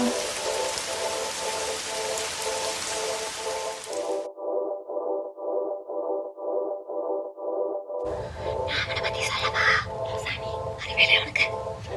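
Steady rain falls as a broad hiss in a Tamil college drama, cutting out for a few seconds while a repeating musical tone continues, then returning with added patter and clatter.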